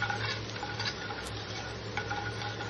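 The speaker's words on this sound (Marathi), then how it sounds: "हे बेसिक मसाले ना तेलामध्ये छान असे मिक्स करून घ्यायचे" Chili powder, salt and turmeric being stirred into hot oil in a pan for a Maharashtrian Patwadi rassa curry. A soft, steady sizzle runs throughout, with faint spoon scrapes against the pan. No one speaks.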